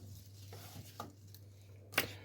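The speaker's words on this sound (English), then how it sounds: "we're going to cut up some of the celery to put into the meatloaf" A knife chops celery on a board for a slow-cooked gourmet meatloaf, giving a few soft, separate cuts with a sharper final chop over a faint steady hum.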